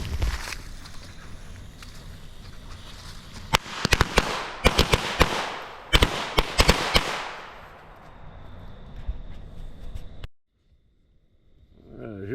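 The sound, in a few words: Maddox firecracker exploding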